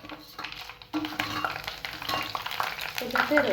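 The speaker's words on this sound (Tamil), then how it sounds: "இந்த அளவுக்கு கடுகு பொரிஞ்ச உடனே காஞ்ச மிளகாய் போட்டுக்கலாம்." Dried red chillies dropped into hot oil with spluttering mustard seeds, a steady close sizzle with scattered pops and crackles that grows busier toward the end.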